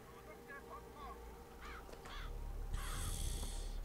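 Ravens cawing in the video game Bioshock Infinite, several harsh caws in short bursts over a low game ambience, with a louder hissing noise rising near the end.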